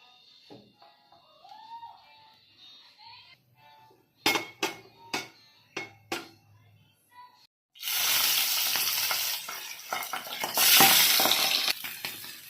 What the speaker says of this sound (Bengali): মাছগুলো আমি একটু নুন, হলুদ আর সর্ষের তেল মাখিয়ে রেখেছিলাম, দিয়ে এবারে সব মাছগুলোই ভেজে নেব।